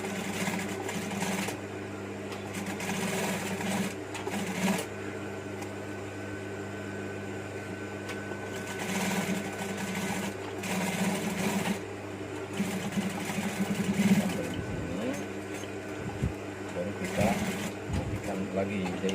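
Sewing machine stitching a wangki collar, repeated runs of fast mechanical whirring close by, broken by pauses, with a person talking throughout.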